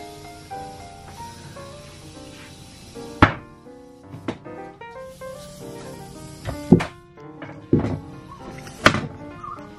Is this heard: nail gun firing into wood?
yes